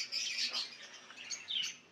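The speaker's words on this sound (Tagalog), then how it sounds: "Ang mga budgerigars or mga parakit." Budgerigars, small parakeets, chirp in a few quick high twitters and tweets, faint and close, with no voices over them.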